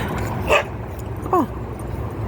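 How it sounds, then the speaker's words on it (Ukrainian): Small dogs meeting and greeting each other give two brief, sharp yips about a second apart over steady outdoor background noise. "зустрілися, вітаються песики"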